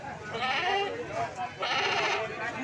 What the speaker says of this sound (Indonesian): Untuk di pintu masuk ini untuk saat ini didominasi oleh kambing-kambing betina, terutama untuk kambing betina indukan.